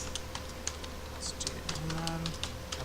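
HTML code is typed into Notepad++ on a computer keyboard, with quick, irregular close-up key clicks tapping throughout at a quiet level.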